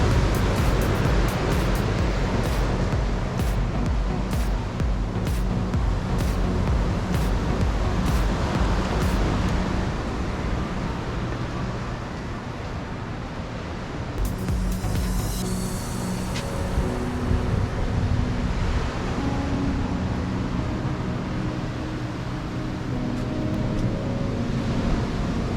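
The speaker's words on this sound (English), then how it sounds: "But there can be strong waves at times down this area as well." Ocean surf rolls onto a beach at Cancun, a steady broadband wash of breaking waves that stays loud and continuous throughout, with occasional brief clicks and faint wind noise mixed in.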